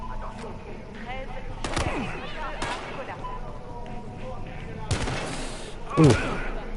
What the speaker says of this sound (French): Coup de feu! Attention.